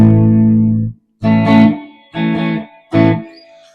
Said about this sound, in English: I haven't adjusted anything on the amp here except for this is just a clean tone.